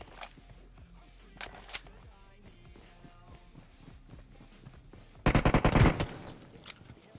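Cheap guns fire in PUBG Mobile: a dense, loud burst of automatic gunfire near the end, after quieter scattered footsteps and faint game sounds.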